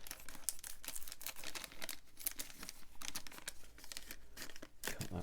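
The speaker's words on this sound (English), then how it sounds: "we'll take that out of the bag" Rubber scale model parts for a 1/24 P-51D Mustang are pulled from a plastic bag, giving a continuous close, loud crinkling and rustling of the plastic with no pauses.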